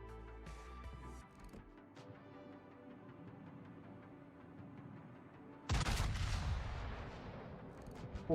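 Naval guns firing in the warship game World of Warships, with faint distant booms over a low hum and then one loud, heavy close salvo that rolls off slowly.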